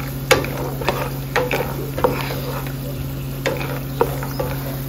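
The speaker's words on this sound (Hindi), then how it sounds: "अभी पीनट्स को मैं अच्छे से, मतलब कि फ्राई कर लूंगी जब तक ये गोल्डन ब्राउन ना हो जाए" Peanuts fry in a pan until golden brown, giving a steady low sizzle with occasional light clicks and scrapes of stirring at a moderate, close distance.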